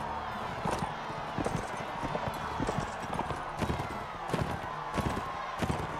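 Horse hooves clip-clop in a steady galloping rhythm as a rider circles in the Mount & Blade Warband video game, fairly close, with occasional sharper thuds and faint clatter underneath.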